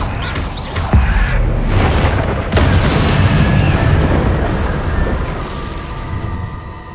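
A Confringo blasting spell explodes in the video game Hogwarts Legacy, with a sharp blast near the start, a second boom shortly after, then a long rumbling roar that slowly fades.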